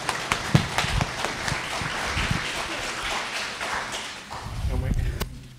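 Audience applause after a song at a Women's Day gathering, a steady patter of hand claps with sharper individual claps near the front, mixed with talking voices toward the end.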